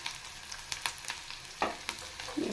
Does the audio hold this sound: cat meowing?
no